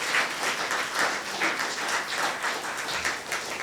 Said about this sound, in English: Please join me in giving a round of applause to Professor Prinja, Aditya Gurtu, and Vipasha Surangi